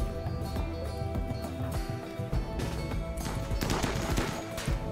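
Colonists fire their guns in RimWorld, and the volleys crackle repeatedly at a moderate distance. The shots build into a denser fusillade near the end, with no talk over them.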